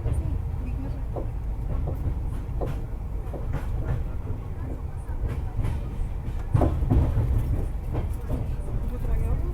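Mumbai Delhi CR Rajdhani Express train running at about 130 km/h through a heavy rainstorm, giving a steady loud rumble with scattered rail clicks and clatter that swells near the end.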